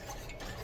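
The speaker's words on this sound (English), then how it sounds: "we're just going to whisk it until it gets hot and everything is dissolved" A whisk swishes briskly through chocolate ice cream mixture in a pot on the heat, a brief soft scraping rustle with no voices.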